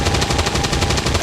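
A soldier in XCOM 2 fires a gun, producing a loud, rapid burst of automatic fire with evenly spaced shots that continues for the whole moment. There is no talking.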